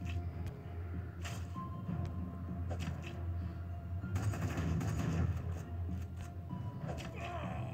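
Rapid gunfire bursts from an attack turn in The Walking Dead: Road to Survival mobile game, crackling steadily over a dense layer of game music and effects, fairly loud throughout.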